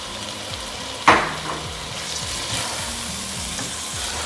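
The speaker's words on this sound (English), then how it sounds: "Saute it well." Soaked rice sautéing in a pan for red lentil pulao gives a steady close sizzle, with a sharp scrape of stirring near the start and soft clinks and shuffles throughout.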